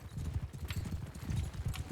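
Horse hooves clip-clop in a fast, busy rhythm from a medieval battle in the game Mount & Blade II: Bannerlord, several mounts trotting close together at moderate volume.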